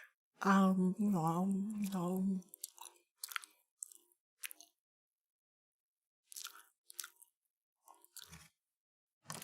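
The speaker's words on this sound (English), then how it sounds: "That was him chewing." A person chews a nut, producing a series of short, close crunching bites after a brief spoken phrase at the start, with quiet gaps between chews.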